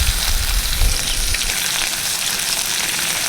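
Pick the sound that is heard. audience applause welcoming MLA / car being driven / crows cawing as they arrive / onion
onion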